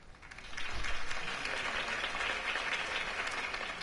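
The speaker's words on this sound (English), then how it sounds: "could have heard that applause" Video game crowd applause, steady clapping swelling quickly to a dense, sustained roar and holding at that level throughout.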